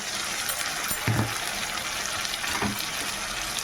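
Ginger-garlic paste sizzles in hot oil with browned onions in a close, steady frying hiss, with two brief bursts of stirring in the pan.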